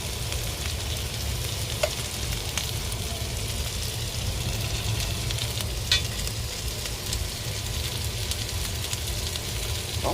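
Baby back ribs pan-frying in a small amount of oil give off a steady, close sizzle that runs unbroken throughout, with faint clicks of utensils now and then.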